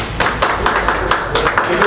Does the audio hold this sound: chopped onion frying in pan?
no